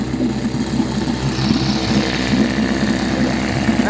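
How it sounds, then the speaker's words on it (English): A 1953 Scott Atwater Gold Pennant 7-1/2 hp outboard motor running steadily at close range, a loud, even low putter with a slight rough pulse and no voices. "That's how you start a motor if you see a recoil brake."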